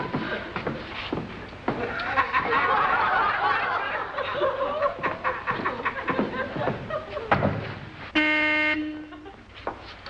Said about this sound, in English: Is the horn fixed, Elmer?